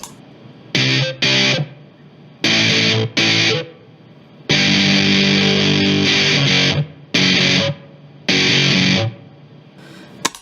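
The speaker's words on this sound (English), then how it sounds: "into a fuzz you get a sort of gated effect, because this has a noise gate on it" Digitech Bass Synth Wah guitar pedal run into a fuzz, its noise gate chopping loud distorted filtered bursts into abrupt on-off blocks of varying length with sudden silences between, loud and close.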